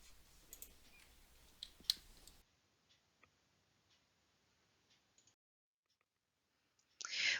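A few faint, sparse mouse clicks while formatting a resume document in Microsoft Word at a computer, soft isolated ticks in a quiet room.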